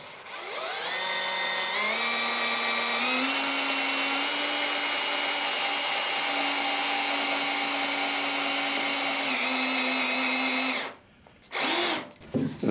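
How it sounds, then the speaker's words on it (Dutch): Power drill running steadily for about eleven seconds, a close, loud high-pitched whine that rises as it spins up and holds a near constant pitch, then stops with a brief restart and handling noise. "En als ik niet te hard boor."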